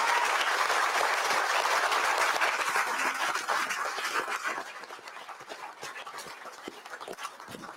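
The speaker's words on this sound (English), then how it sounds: "let's give a round of applause to all of our candidates this evening" An audience at a county commissioners candidate forum claps for the candidates, the applause starting full and dense, then thinning and fading over several seconds into scattered claps.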